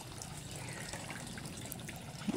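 A garden water fountain runs with a steady, continuous trickle and splash of falling water, close by and unbroken.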